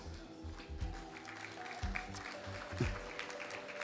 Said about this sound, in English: give them a warm round of applause, our officials